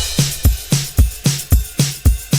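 Pop folk drum mix built in FL Studio: kick, snare, ride, crash, shaker and tambourine in a steady driving loop, each punchy kick and snare hit followed by bright jingling shaker and tambourine, with no voices over it.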